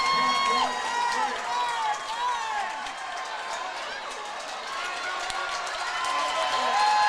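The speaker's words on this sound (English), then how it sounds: "Thunderous applause and approval by the crowd." Crowd at a youth hockey festival game between Mayo and East Ridge roars with sustained applause and cheering, a dense wash of clapping and shouts with whistling tones, loud and continuous throughout.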